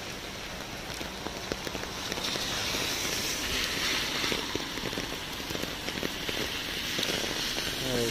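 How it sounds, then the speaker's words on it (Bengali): Heavy rain pours outside in the morning beside a drain, a dense, even hiss of drops hitting the surfaces nearby. It continues unbroken with no voices. "সেই যে গতকাল সকালে শুরু হয়েছে বৃষ্টিটা, এখন পর্যন্ত চলছে"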